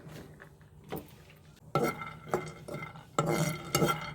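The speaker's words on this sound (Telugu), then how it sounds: "ఇదిగోండి వేరుశనగండి ఇవి వేయించుకుందాము" Peanuts rattle and scrape in a pan as they are roasted and stirred, bursts of dry clattering strokes coming in a loose rhythm, close and moderately loud, with no talk.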